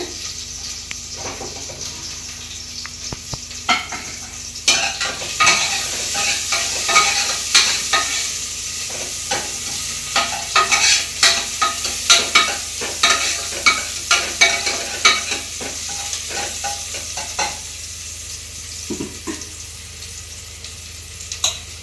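Onion fries in hot oil for tempering before mutton goes in, a steady sizzle under repeated loud, rhythmic spatula scrapes and taps against the pan, with no talking.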